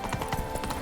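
Horse hooves beat in a quick galloping rhythm in The Witcher 3, a brief, close burst of several muffled thuds.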